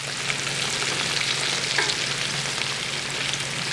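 Beef short ribs brown in a hot pan, giving off a loud, even, continuous sizzle close by with no talking.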